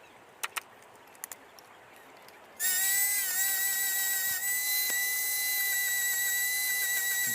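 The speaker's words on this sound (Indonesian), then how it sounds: "kita tinggal amplas menggunakan gerinda" A power grinder sands a children's barong mask, spinning up abruptly after a few light taps and holding a loud, steady high whine with brief dips as it bears on the workpiece.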